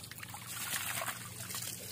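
Mountain water rushes from a repaired pipe fed by gravity with no pump, making a steady, fairly loud splashing gush that stays even throughout, close by, with no voices.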